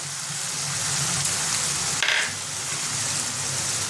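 Chopped tomato and ground spices fry in a hot pan with a steady, loud sizzle, broken briefly by a brighter hiss midway as something is stirred or added.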